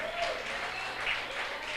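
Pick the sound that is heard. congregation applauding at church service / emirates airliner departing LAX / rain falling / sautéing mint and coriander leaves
congregation applauding at church service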